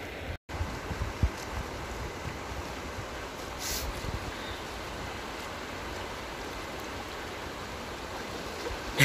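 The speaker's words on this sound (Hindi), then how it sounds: "ये नदी देखो कितना गहरा है ये नदी।" A deep river flowing through a forest in Bhutan, giving a steady, loud rush of water that fills the whole stretch, with a brief gap near the start and occasional wind buffeting.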